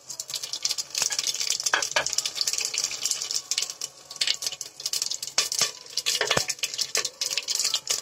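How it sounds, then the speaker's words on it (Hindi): Bay leaf, cinnamon stick, black cardamom and other whole spices crackling and sizzling in hot oil in a pot, a steady close fizz broken by sharp pops and spoon scrapes, with no talking. "सारे मसाले अब चिटकने लगे हैं"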